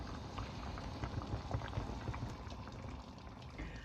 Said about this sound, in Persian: در قابلمه رو هم میذاریم و اجازه میدیم سوپمون به آرومی بپزه